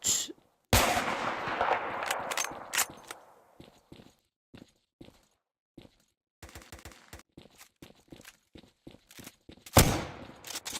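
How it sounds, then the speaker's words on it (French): Shooter gameplay in Kuboom brings bursts of gunfire: a loud opening volley, then scattered single shots and clicks separated by silences, and a final sharp blast near the end. "Un mec qui est en train d'essayer de me tirer."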